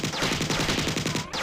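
An assault rifle fires in the game Marathon, a rapid sustained burst of evenly spaced loud shots that runs for over a second, breaks off briefly, then resumes, with no voices.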